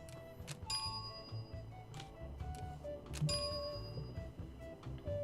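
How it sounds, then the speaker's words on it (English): Ringing a bell in the video game Monkey Island 2, several bright metallic dings spaced out over a few seconds against quiet background game music. "What if I ring this bell if it does anything?"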